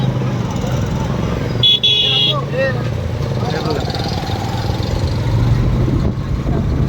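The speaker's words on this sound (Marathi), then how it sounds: "त्याच्यामुळे हे ट्रॅफिक होतं" Dense roadside traffic at a village temple fair, with engines idling and rumbling close by and a short car horn toot early on, all under a steady crowd murmur and voices.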